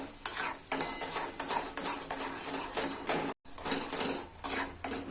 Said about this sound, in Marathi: मसाला चांगला आता तेलामध्ये भाजून घ्यायचा, तेल सुटेपर्यंत